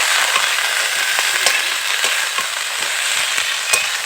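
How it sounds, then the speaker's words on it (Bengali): Drumstick (sajina) flowers and potatoes fry in a pan, giving a loud, continuous close sizzle with scattered crackling pops. "অনেকদিন পরে কিন্তু সজিনা ফুল ভাজা হচ্ছে বাড়িতে"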